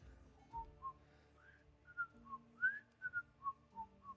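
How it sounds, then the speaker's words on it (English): A fantasy-story character whistles a short tune of separate rising and falling notes, clear and fairly soft against a quiet background with no talking. "it is the sound of Clay's whistle that shocks you back out of this memory into the present timeline."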